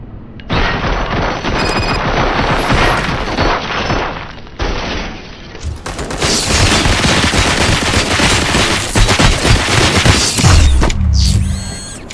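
Dense, sustained gunfire from the RoboCop Rogue City video game rattles in rapid mechanical bursts, with loud booms near the end and no talking over it.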